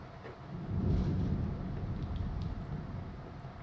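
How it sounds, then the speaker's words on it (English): Thunder rumbling outdoors, heard from inside as a low, swelling roll that stays faint and muffled throughout. "it's thundering outside."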